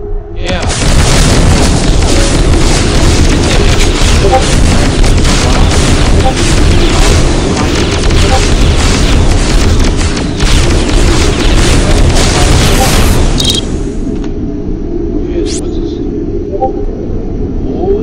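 Grenade launcher explosions in a video game roll out as loud, dense, continuous booms for much of the stretch, then cut off abruptly into a quieter tail.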